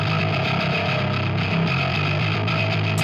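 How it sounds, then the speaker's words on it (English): A heavily distorted bass guitar tone with the low end left uncut plays continuously, a thick, fuzzy and buzzy sustained drone, loud and alone. "the distortion easily sounds farty in the low end"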